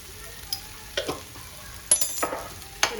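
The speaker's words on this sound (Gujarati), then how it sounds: "સરસ રીતે મિક્સ કરી લઈશું." A spoon scrapes and stirs a spice mixture with garam masala and amchur powder in a pan with light sizzling, a few distinct scraping strokes over a soft frying hiss.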